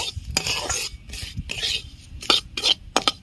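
Spoon scraping and stirring semolina as it fries in ghee in a pan for sooji halwa, with uneven rasping strokes and a faint sizzle, close and without talk.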